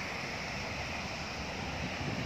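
Sea waves wash onto a beach in a steady, unbroken roar of surf and wind, moderately loud, with no voices.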